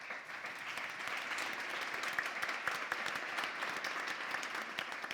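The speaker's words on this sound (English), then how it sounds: "a big applause for the panelists" Conference audience applauds the panelists after a plenary session, sustained dense clapping heard from a moderate distance, steady from start to finish.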